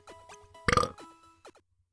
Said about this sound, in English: I burped.